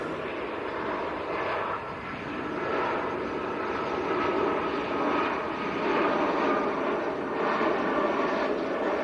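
A Lufthansa airplane at Manchester airport produces a broad, steady engine roar that swells gently and holds at a moderate distance, with no talk over it.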